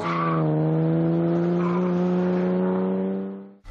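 A Jaguar E-Type coupé drives hard with a sustained tonal squeal, steady and loud for a few seconds before cutting off abruptly.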